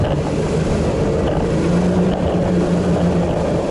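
A motorboat engine drones steadily up close, with rushing water and wind buffeting the microphone throughout.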